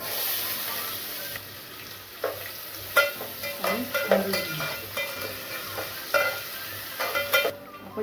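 Chopped onion dropped into hot oil with cumin and whole spices, frying over a low flame with soft sizzling and intermittent stirring scrapes and light clinks against the pan, close and moderate in level.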